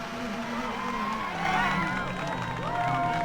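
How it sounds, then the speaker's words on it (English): A virtual grandstand crowd in the racing game TOCA 2 at Oulton Park cheers and claps in a steady, dense roar of babble and applause that swells slightly midway, mixed under game audio. "there's all my fans again. Some of them clapping"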